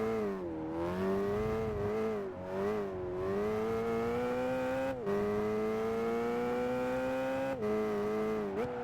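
A racing car engine in the video game Gran Turismo drones with a thin, whiny exhaust note, revving up steadily and dropping briefly at gear shifts, with no talking.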